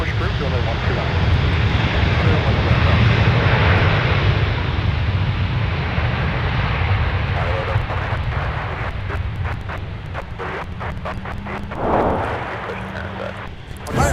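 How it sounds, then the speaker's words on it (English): An American airliner touches down on the south parallel runway, its engine roar broad and loud at first, then easing into a lower rumble with faint clicking as the aircraft rolls out. "take a look at American touching down on the south parallel"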